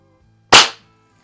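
A single sharp, loud shot from a Norica Dream Hunter .177 underlever spring air rifle, heard alone as a crisp crack that decays within a quarter second over faint low background hum.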